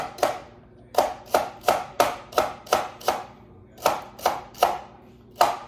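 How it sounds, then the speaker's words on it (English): Rough-cut celery chopped with a knife on a board, about fourteen sharp, evenly spaced chops in a quick rhythm, loud and close with no talking. "A little chop action here."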